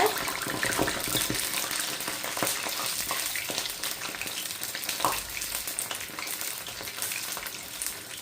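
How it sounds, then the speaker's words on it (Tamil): Rava vada, semolina fritters, fry in hot oil after being flipped, giving a steady close crackling sizzle with bubbling pops throughout and no voices. "இப்போ பார்த்தீங்கன்னா மற்ற பக்கம் நாங்கள் திருப்பி போடுவோம் இந்த ரவா வடையை"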